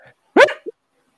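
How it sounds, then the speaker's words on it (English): A pet dog gives one sharp, close bark, then a short, quieter yelp right after, with silence around it. "He's got his doggy there."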